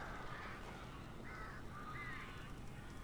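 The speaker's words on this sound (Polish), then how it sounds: "Trochę tu jest tych ptaszków." Crows caw in the game Alan Wake Remastered, a few hoarse calls spaced across the stretch, faint and distant over a steady hissing ambient bed.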